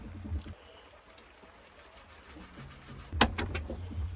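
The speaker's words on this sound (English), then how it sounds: "Same again with the Scotch pad, I think." An abrasive Scotch pad scrubs a worn, pitted zinc-coated brake part from a Vauxhall Combo 1.3 van's rear brakes, giving soft intermittent rubbing strokes with a sharper scrape near the end, close and fairly quiet.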